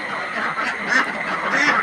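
Close by, a flock of ducks sick with duck plague quacks continuously in a dense, overlapping chorus with no other sound breaking through.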